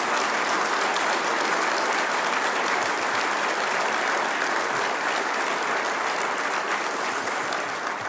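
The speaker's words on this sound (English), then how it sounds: "Clap for that." An audience at a Smithfield announcement event in South Dakota breaks into loud, sustained applause, a dense, steady wash of clapping that fills the whole stretch without a break and with no talk over it.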